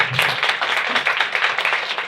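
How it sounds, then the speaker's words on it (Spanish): An audience at a book presentation applauds, a dense, steady patter of many hands clapping together, close and fairly loud, sustained throughout with no speech over it. "Es un aplauso doble"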